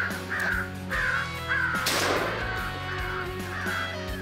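Crows cawing repeatedly over a steady low hum during a crow hunt, harsh calls arriving in a regular rhythm at moderate distance, with a brief thump-like burst partway through.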